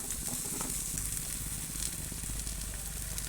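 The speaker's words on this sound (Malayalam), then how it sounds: "കടുക് പൊട്ടിച്ചിട്ട് നമ്മൾ അരിഞ്ഞ് വെച്ചേക്കുന്ന ആ ചീരയൊക്കെ അതിനകത്തേക്കിടും" Chopped spinach frying in oil with popped mustard seeds makes a constant, even hiss that stays dense and close throughout.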